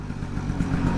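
A 1966 Piaggio Vespa 150 Sport scooter's small engine runs at a steady, low putter, close by and continuous, with no talking.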